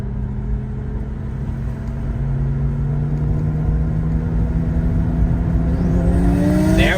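A 2JZ-swapped BMW E30 and a twin-turbo Nissan 370Z race, engines roaring and building in pitch as they accelerate, a loud sustained rumble heard from nearby with a rising whine near the end.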